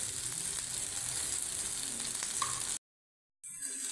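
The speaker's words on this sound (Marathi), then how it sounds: "असं सगळे पीस आपण आता एकसारखे असे भाजून घेऊ." Chicken pieces frying in a pan make a steady, close, soft sizzle that cuts out abruptly for a moment before resuming, with no voices.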